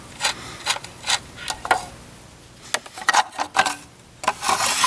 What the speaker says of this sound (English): Should just be able to lift this cover right out with the bolts still in there